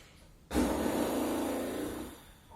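A long, loud inhale taken during a yoga breathing exercise. It starts abruptly, rushes steadily for about a second and a half, then fades. The breath is close to the microphone and no one speaks.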